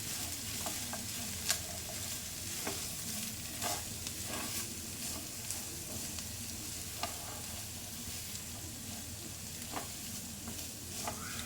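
Grated carrot being stirred into sautéed capsicum in a hot pan, with steady close sizzling broken by scraping strokes and soft clicks of the spoon against the pan throughout.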